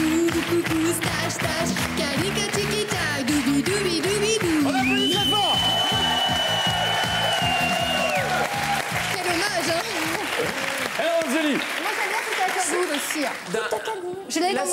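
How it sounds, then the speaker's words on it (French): An audience applauds loudly at a French stage show, a dense, steady wash of clapping that carries on throughout, mixed with music and voices. "On applaudit très fort."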